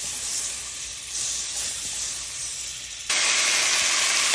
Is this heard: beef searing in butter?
yes